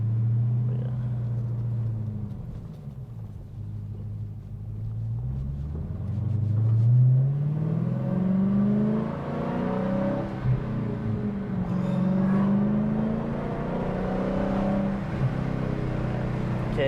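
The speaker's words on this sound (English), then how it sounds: "I'll ease into it, just so you can hear the whine" A 2019 Dodge Challenger SRT Hellcat Redeye Widebody eases into the throttle, its supercharger whine rising and falling over a deep engine rumble in a continuous, moderately loud interior pull.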